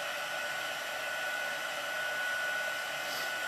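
A heat tool blows hot air over embossing powder on a stamped card, a steady close whooshing hiss with an even whine that holds unchanged throughout, with no speech.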